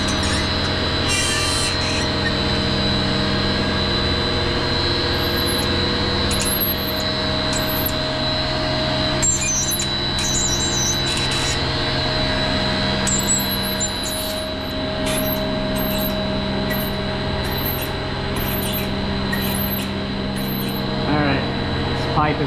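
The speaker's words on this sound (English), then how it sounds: "Pipe is now cut." A power tool cuts pipe during an HVAC filtration system rebuild, a steady loud whine running throughout with sharp scraping bursts near the top, and someone talking over it.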